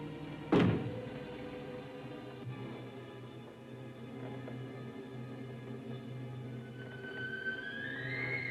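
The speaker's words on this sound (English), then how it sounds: "Knock once if you hear me." A single sharp knock sounds from inside a closet, one clear rap near the start, then a quiet, hollow room tone with a faint rising hum at the end.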